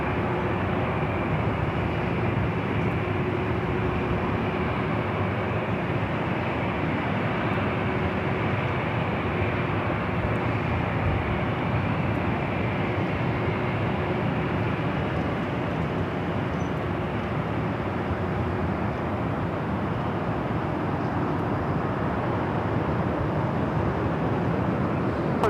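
A Delta airliner takes off from runway 24 left at Los Angeles International Airport, a broad steady jet roar that holds continuously without pause, loud and sustained.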